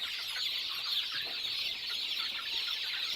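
A flock of broiler chickens clucks and chatters steadily, a dense overlapping murmur of fowl noise with no pauses.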